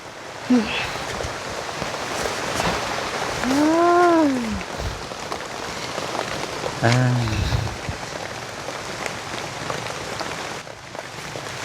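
Steady hiss of rain falling outdoors, heavy and continuous, with a couple of brief rising vocal-like calls and short noises breaking through.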